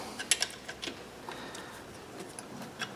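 A ratchet with a 10 mm socket snugs an alternator wire nut on a Scion xD, faint quick clicking ticks in short bursts over a quiet background.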